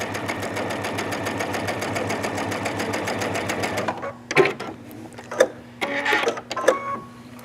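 A sewing machine with a roller walking foot stitches a quilted jacket in a fast, steady mechanical whir for about four seconds, then falls to quiet scattered handling clicks and rustles.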